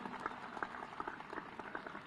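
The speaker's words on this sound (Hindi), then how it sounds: "गुरुजी के चरणों में एक बार जोरदार तालियों के साथ हम अभिनंदन करें" Audience at a spiritual congregation applauding a guru, a steady dense wash of clapping throughout, moderately loud and continuous.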